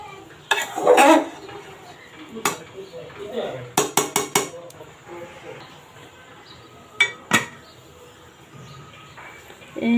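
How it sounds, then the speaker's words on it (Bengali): A lid is set on a pot of cooking khichuri over a low flame with several sharp metal clanks in a cluster, then a couple more knocks later, amid quiet kitchen clatter and faint voices. "একটু ঢাকনা দিয়ে আমি রেখে দিব পাঁচ মিনিটের মতো"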